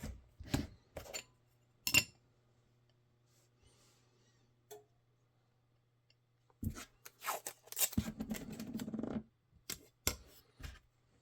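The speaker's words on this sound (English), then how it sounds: "We'll go ahead and actually cut that off." Scissors cutting off holster material for an IWB holster for a Glock 21 with TLR8, a few crisp snips separated by quiet pauses, then rustling handling noises.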